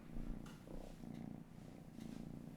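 Zélia, a pet cat, purrs steadily up close, a soft low rumbling drone in a quiet indoor setting with a few faint brushing sounds.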